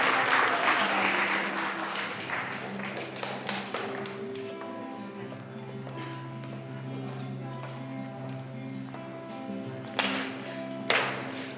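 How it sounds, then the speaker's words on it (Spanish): Applause rises at a baptism in a church, a burst of clapping in the first few seconds that fades under a sustained musical tone, with a couple of later sharp taps. "Un aplauso para ellos"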